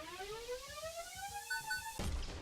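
Placeholder beep-beep charge cue in an Unreal Engine 5 game: a rising synthetic tone climbs and then pulses twice at its peak before cutting off, fairly faint and heard alone.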